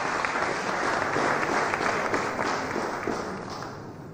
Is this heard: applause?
yes